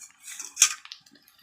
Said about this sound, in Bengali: যে মাছের যে গ্রেভিটা আছে এটা আমি ভালো করে চামচের সাহায্যে তুলে এটা ভাতে দিয়ে দেব